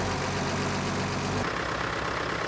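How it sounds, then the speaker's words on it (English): Vintage International Harvester tractor engines idle and chug nearby at a tractor show parade, a steady low throbbing rumble that shifts in tone partway through. "Time now for the International Harvester Tractor Parade."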